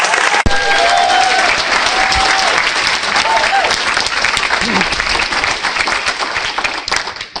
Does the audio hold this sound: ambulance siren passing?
no